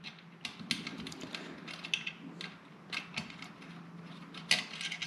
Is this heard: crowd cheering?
no